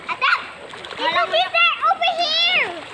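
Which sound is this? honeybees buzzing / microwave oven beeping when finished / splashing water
splashing water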